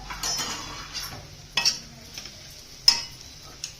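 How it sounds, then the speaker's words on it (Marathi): Chopped red pumpkin sautéed with turmeric in a pan, giving a faint low sizzle broken by a few sharp clinks and scrapes of a spoon stirring against the metal. "हे कापलेलं डांगर त्याच्यामध्ये टाकून द्यायचं आणि छान असं परतून घ्यायचं"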